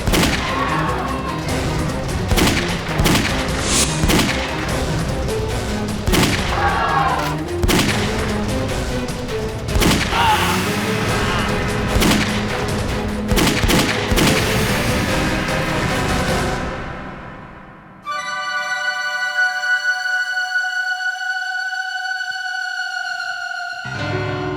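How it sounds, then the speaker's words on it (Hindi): Repeated sharp gunshot bangs ring out irregularly for several seconds, then stop abruptly and give way to sustained musical tones. "किसने गोली चलाई?"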